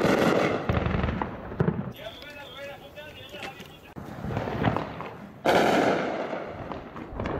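Shelling and gunfire in Idlib during fighting between armed factions, with loud, sustained crackling bursts and heavy booms that fade out and then return, while people's voices are heard among the shots.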